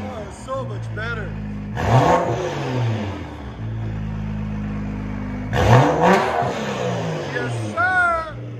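A straight-piped 2012 BMW 335i with its 3.0L engine revving hard twice, each rise swelling and then falling back to a rough idle, heard nearby with people talking in between.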